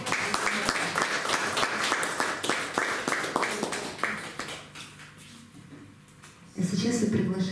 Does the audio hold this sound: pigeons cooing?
no